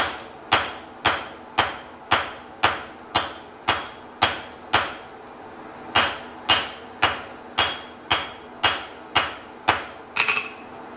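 A blacksmith's hammer strikes hot metal on an anvil during a forging session, ringing out in a steady run of bright, clanging blows about every half second, pausing briefly once, close and alone without talk.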